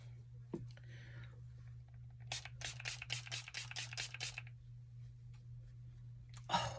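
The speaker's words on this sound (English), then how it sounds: "Oh, wait, let's try the setting spray real quick." Lottie London Dewy Setting Spray misted onto a face in a run of about eight quick, close bursts from the pump sprayer, over a low steady hum, with a faint click before and after.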